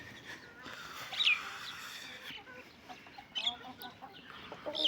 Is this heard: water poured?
no